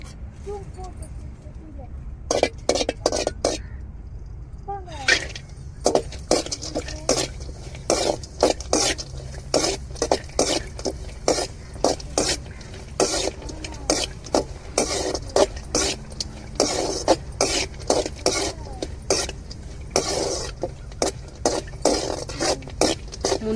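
Cashews and raisins frying in ghee in a pan for coconut-milk kesari, with a steady run of sharp clinks and scrapes from stirring against the metal over a faint sizzle and kitchen background.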